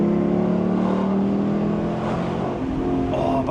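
Lexus LC500 V8 engine revving hard under acceleration from inside the car, a loud continuous growl with rising tones and no talking.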